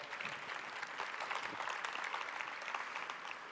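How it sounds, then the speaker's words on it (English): Conference audience applauds the event's sponsors, a steady, even wash of many hands clapping throughout, heard from a moderate distance with no talk over it. "Please, quick little round of applause for them."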